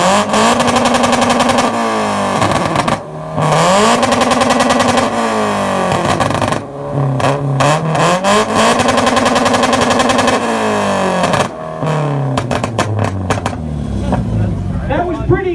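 A modified 86 revs hard at a rev battle during a 2018 Melbourne car meet: loud, close engine pulls that climb and fall in pitch over and over, ending in choppy bursts and crackles.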